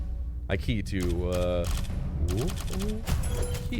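Game sound effects from the undead ARPG Tower of Babel, with corpse explosions popping in quick bursts amid clattering effects and tonal music-like tones, loud and busy throughout.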